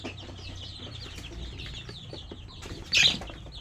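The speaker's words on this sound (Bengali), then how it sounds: "সব সোনালি জাতে মুরগি আছে দেখো মুরগিগুলো কালার সব সোনালি" Sonali breed chickens and young chicks on a small farm cluck softly in a steady background murmur, with one louder squawk or flap standing out near the end.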